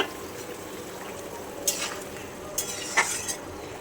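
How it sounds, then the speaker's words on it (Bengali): Fish cooking in a pan gives a soft continuous sizzle, broken by a few brief metallic scrapes and clinks of a utensil, all fairly faint and with no talking. "এই যে মাছটা এখন রান্না চলছে"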